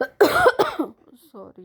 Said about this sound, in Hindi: बारिश की वजह से खांसी और हो गई।